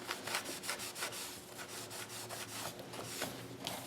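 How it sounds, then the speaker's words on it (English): A bone folder or tool burnishing down a glued paper fold on a handmade magazine journal, giving soft rhythmic rubbing strokes, steady and close, with no talk. "fold it and burnish it down well."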